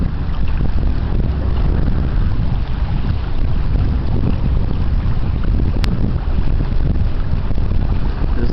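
A 1,000-foot self-unloading freighter, the Presque Isle, sails on a river, heard as a steady low rumble buried under heavy, continuous wind buffeting on the microphone. No horn sounds.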